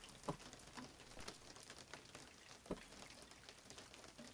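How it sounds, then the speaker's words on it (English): Rain in the horror video game Visage patters softly and continuously, a quiet hiss of drops with a couple of sharper ticks, and no one talking. "I love the sound of rain."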